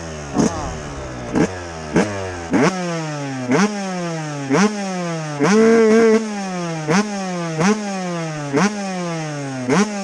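A Yamaha YZ 125 two-stroke dirt bike engine revs hard in repeated sharp bursts, each climbing and falling back to a buzzing idle, loud and close with no talking.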